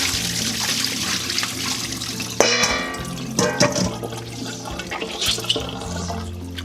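Water from a soak of raw cut chicken pieces pours off as they are drained, a steady close splashing flow with a sharper gush partway through and continuing trickling, no talk.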